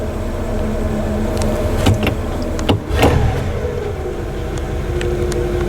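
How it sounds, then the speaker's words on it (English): A car engine idling smoothly and steadily at close range after starting, with a brief dip and surge midway and a fan-like whir joining the hum. "Start it up. Run smooth. Fan should come on."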